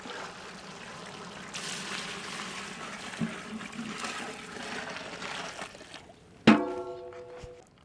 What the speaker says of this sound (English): Now we will add chicken broth.